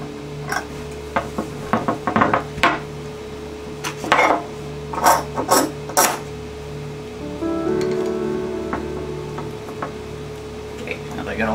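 Metal clamps ratcheting and tightening against an acrylic slingshot frame, making a run of sharp clicks, squeaks and clinks up close over a steady background hum, with a softer rasping stretch toward the end.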